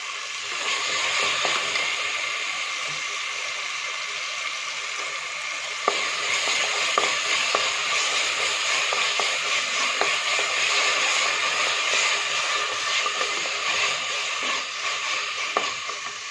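Ginger garlic paste frying with softened tomatoes in oil for a chicken kurma, a steady loud sizzle with occasional clicks of a spoon against the pan, alone without voices.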